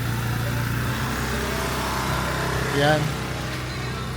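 A Kymco Dink S 150 scooter engine runs steadily close by with a low, smooth hum, rising briefly in a short rev near the end while someone talks over it.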